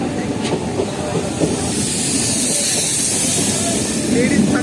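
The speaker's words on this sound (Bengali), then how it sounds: "ফাইনালি আমাদের ট্রেন ছেড়ে দিল" Lalgola–Sealdah local train pulling out of Murshidabad Junction, a steady broad rumble and hiss of rolling wagons filling the whole stretch, close and loud, with faint voices mixed in.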